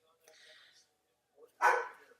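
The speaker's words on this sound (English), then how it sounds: "sorry, you can hear my dog. She's very protective." A protective pet dog barks in a home, two short bursts, the second louder and closer, with a quiet gap between them.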